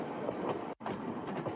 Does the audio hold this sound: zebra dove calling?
no